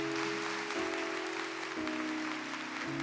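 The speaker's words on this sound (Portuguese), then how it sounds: "Vamos aplaudir a palavra" Congregation applauding after a church Mass reading, steady broadband clapping throughout, with a sustained organ or keyboard chord underneath.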